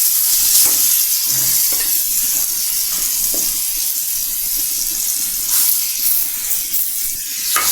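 Panch phoron spices crackle and sizzle loudly in hot oil while an olive pickle is cooked, a steady bright hiss with occasional stirring knocks and pops throughout, and no talking.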